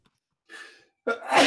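A single sharp human sneeze at a tabletop role-playing session, with a short breathy intake just before the loud, close burst.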